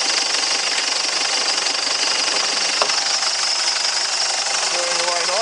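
A Ford Ranger 3.0 WEAT diesel engine runs with its bonnet open at an auto parts yard, giving a steady, loud, continuous clatter and hum throughout.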